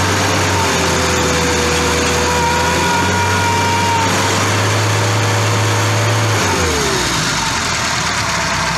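A classic Mini engine with the radiator cap off idles steadily in a workshop, then takes a light rev that climbs and falls back, a buzzy close engine drone heard alone without talk.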